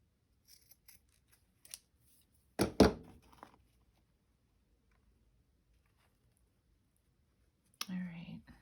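Scissors cutting paper for a shabby chic journal: a short, close snipping burst, a quiet slice near the end and faint handling clicks in an otherwise quiet room.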